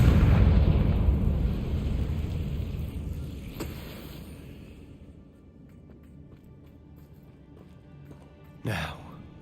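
A fiery blast cast as a spell in Hogwarts Legacy, a loud broadband roar that fades over several seconds into a low rumble, with a short sharp burst near the end.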